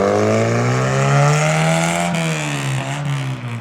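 A Lotus sports car revs hard with a steady engine drone, dips briefly as it shifts gear around the two-second mark, then pulls away loudly and close, with no voices over it.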